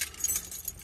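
Car keys jangle briefly in a short metallic shake of light clinks, close and moderately quiet, inside a 2012–2014 Toyota Camry.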